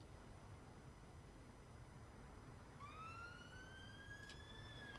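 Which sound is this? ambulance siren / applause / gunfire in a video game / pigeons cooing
ambulance siren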